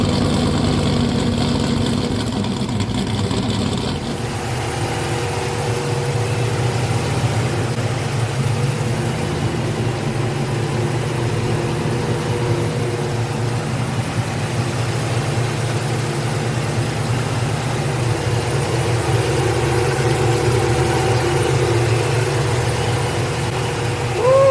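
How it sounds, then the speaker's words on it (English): Cammed LS swap V8 with full exhaust in a G-body car, idling loud and steady after a cold start, a deep lumpy rumble running continuously throughout. "Let me set this camera up to do a cold start."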